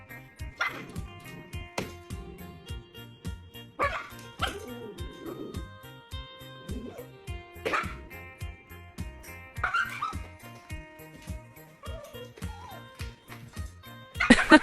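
A dog gives repeated short whimpers and yips with occasional barks, close by and moderately loud, spread unevenly across the whole stretch, with a louder burst of barking near the end.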